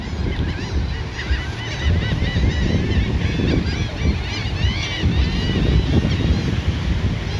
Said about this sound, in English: Wow, there's so many seagulls.